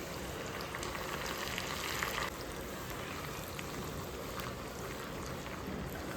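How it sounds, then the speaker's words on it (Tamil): Sliced garlic and curry leaves frying in hot oil for achari chicken, a dense continuous sizzle and spatter heard close and fairly loud, unbroken from start to finish. "பூண்டு வந்து நல்லா ஃப்ரை ஆகட்டும்."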